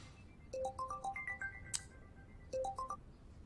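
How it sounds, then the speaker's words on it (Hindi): A phone plays a melodic electronic ringtone, a rising run of bright tones, then a pause and the same phrase starting again, clear and fairly close with no talking over it. "मैं जरा फोन लेती हूँ।"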